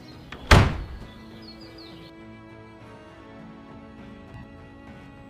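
A single heavy wooden door thuds shut with a sharp, loud impact in a village setting, followed by a quiet lingering tail and faint ambient sounds.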